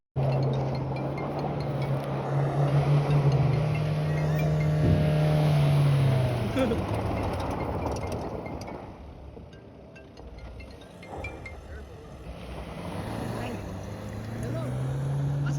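A Mahindra Thar engine revs and strains as it drives over rough, rocky ground, rising and falling in pitch, with voices talking over it.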